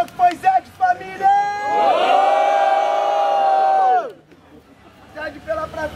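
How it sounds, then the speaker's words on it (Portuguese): A live crowd at a Brazilian freestyle rap battle final roars and shouts in a sustained, loud, near burst of cheering lasting about two seconds, framed by short shouts before and scattered voices after. "Barulho só pra quem achou que foi Zed, família!"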